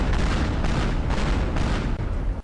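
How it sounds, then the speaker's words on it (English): A car built from nitroglycerin blows up in the destruction game Teardown, a dense, roaring blast that keeps rumbling in slow motion for over two seconds before cutting off abruptly. "we're gonna do a cool, like, slow motion explosion"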